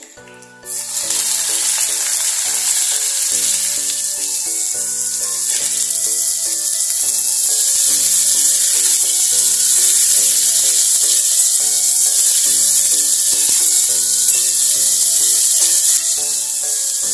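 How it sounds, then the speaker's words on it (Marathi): Chopped vegetables stir-fry in a pan for veg Hakka noodles: a loud, steady sizzle fills the whole stretch, punctuated by regular scraping and knocking of a spatula tossing the vegetables, with no voices. "तीन मिनिटच आपण ह्या भाज्या परतून घेणार आहे"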